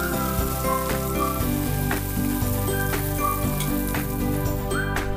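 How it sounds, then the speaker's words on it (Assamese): Pieces of fish coated in salt, turmeric and rice flour fry in hot oil in a pan, giving a continuous close crackling sizzle with small pops, while tonal background sounds run faintly underneath. "এতিয়া আমি প্ৰথমে মাছকেইটা ফ্ৰাই কৰি ল'ম।"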